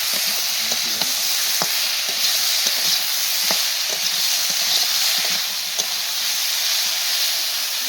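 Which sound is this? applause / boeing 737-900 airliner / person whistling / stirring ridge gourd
stirring ridge gourd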